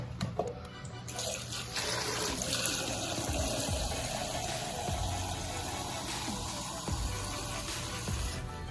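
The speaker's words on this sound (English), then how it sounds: "I'm gonna add some more water" Water pours into a hot pan of cooking Salisbury steak with a continuous rushing splash and hiss, close by and steady.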